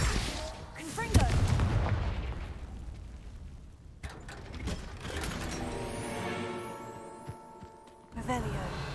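Confringo blasting spell cast in the video game Hogwarts Legacy: sharp, booming bursts at the start, around the middle and near the end, with mechanical clatter and a game voice in between.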